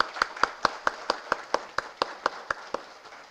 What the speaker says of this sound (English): So give a big round of applause for all of you.